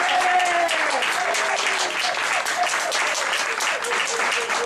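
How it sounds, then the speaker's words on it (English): Audience at a Tea Party group meeting applauds steadily, dense even clapping throughout with a voice faintly speaking beneath it early on. "let's give a hand for Dan for all his help"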